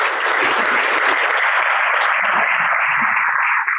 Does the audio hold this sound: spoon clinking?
no